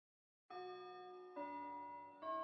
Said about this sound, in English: Classic bell sound.